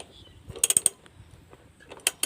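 A wrench turns the nut on a car battery terminal, giving a close run of small metallic ratcheting clicks and clinks, then a brief pause before a few more sharp clicks.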